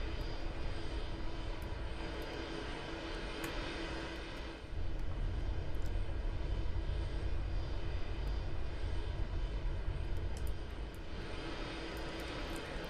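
Boeing 737 jet engines in the Aeronautica flight game give a steady, loud, broadband roar that holds for the whole stretch, swelling slightly partway through with no pauses.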